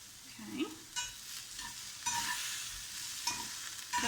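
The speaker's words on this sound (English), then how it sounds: "There's a nice sizzle happening in the frying pan right now." Onions sizzle in a frying pan with a steady, crackling hiss, broken by a few scraping stirs of a utensil against the pan.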